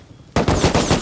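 AK rifle fire in the video game Rust: after a short quiet lead-in, a loud, close burst of rapid automatic shots rattles steadily to the end.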